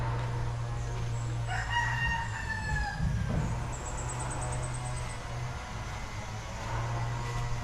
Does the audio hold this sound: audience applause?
no